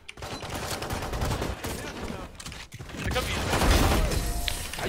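Rapid gunfire bursts in a Valorant match crackle loud and dense across the span, mixed with mechanical clicks and game effects, with a heavier sustained volley toward the end.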